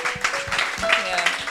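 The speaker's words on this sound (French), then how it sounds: "Est-ce qu'on peut les honorer avec nos applaudissements?" A church congregation gives a moderate round of applause during a bilingual English-French sermon, with fairly steady clapping and faint tonal sounds beneath it.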